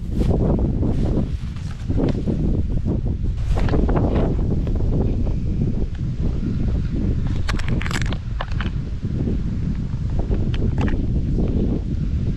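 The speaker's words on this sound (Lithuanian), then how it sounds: "Nu ir vėjas sukilo." Gusty wind buffets the microphone outdoors during a fishing trip, a steady broadband roar with rustling and occasional scraping, continuous and close throughout.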